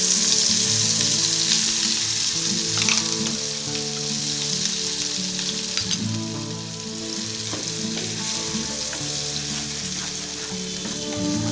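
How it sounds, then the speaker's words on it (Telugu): Onion and cashew paste frying in oil in a pan for masala egg curry, giving a loud, continuous sizzle close up, with occasional stirring scrapes under the steady crackle. "ఆనియన్ పేస్ట్, జీడిపప్పు బాగా ఫ్రై అయిన తర్వాత"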